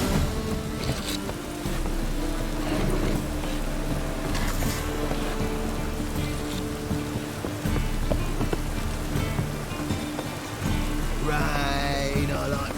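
Rain falls in The Witcher 3: Wild Hunt as a steady, noisy patter, layered under sustained tonal ambient game sound for the full stretch without any voices.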